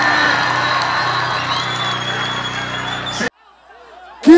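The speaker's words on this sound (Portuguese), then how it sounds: "Uma salva de palmas para Jesus Cristo e sua vida." A carnival crowd cheers and shouts loudly in a steady roar with whoops and scattered clapping. It cuts off abruptly near the end, followed by a brief near-silence and then a loud burst.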